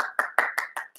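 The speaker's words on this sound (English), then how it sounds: "All right, give yourself a round of applause like this." Six distinct, evenly spaced hand claps at a Motown-themed performance event, sharp and close with short gaps between them, no talking.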